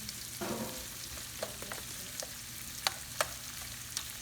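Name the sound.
onions and garlic sautéing in a pan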